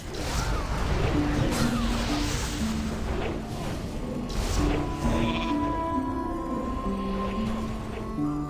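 Sheep in World of Warcraft Classic, Season of Discovery, give a series of nasal, wavering bleats. The bleats repeat over several seconds, mixed with swooshing and whacking combat effects.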